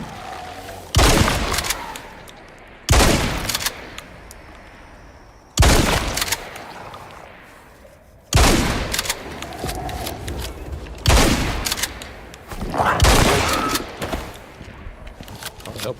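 Gunfire in the video game Icarus: five or six loud, sharp shot bursts at irregular intervals, each trailing into a short echoing decay over faint ambient background.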